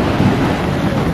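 Steady rain falls outdoors at a garden in Saket, Delhi, a dense continuous wash of broadband noise with a low rumble and some wind buffeting on the microphone, loud and unbroken throughout.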